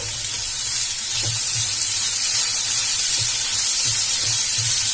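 Chopped cabbage, carrot, chilli and mint leaves sauté in a pan over a low flame, giving a steady close sizzle with soft intermittent stirring scrapes throughout.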